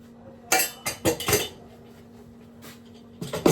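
A spoon scoops and taps against a pot as spoonfuls go in: a quick run of bright metallic clinks up close, then a pause and a final pair of clinks, with no talk.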